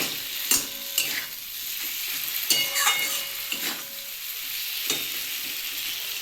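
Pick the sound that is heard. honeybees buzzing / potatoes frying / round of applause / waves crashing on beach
potatoes frying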